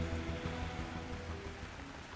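Heavy monsoon rain in Himachal Pradesh, a dense, continuous patter on surfaces, faint and steady throughout.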